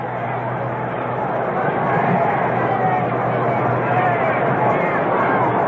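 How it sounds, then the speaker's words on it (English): Stadium crowd at Game 6 of the 1962 World Series between New York and San Francisco, a steady swelling roar of hubbub and chatter rising slightly as Willie Mays steps into the batter's box. "This crowd coming alive as Mays moves into the batter's box"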